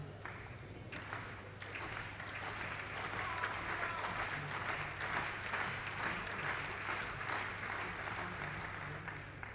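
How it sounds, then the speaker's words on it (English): A Danish crowd cheers and claps at a badminton match, the BWF World Senior Championships final, a steady wash of applause and crowd noise rising slightly and holding throughout, moderately distant. "You can hear the Danish crowd cheering Peter on"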